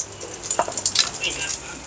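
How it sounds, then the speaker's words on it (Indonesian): An omelette fries in a clay non-stick pan, a steady close sizzle with light spattering crackles and a few stirring scrapes throughout. "kita goreng lagi"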